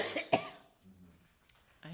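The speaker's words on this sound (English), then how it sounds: "I hate to cough" A single sharp cough bursts out close by, followed by quieter breathing and a soft voice starting at the end.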